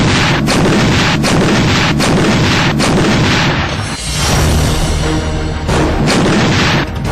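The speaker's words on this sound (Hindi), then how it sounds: "1 मिनट के भीतर ये तोप 5 गोले दागती है" A lightweight howitzer fires shell after shell, heavy booms following one another every second or so, loud and close, with rumbling echoes between shots.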